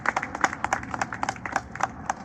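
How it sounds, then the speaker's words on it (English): A gathering at a groundbreaking ceremony for an Armenian center claps for a state senator, a brief patter of scattered, uneven hand claps from a modest crowd. "everybody give a round of applause to our state senator"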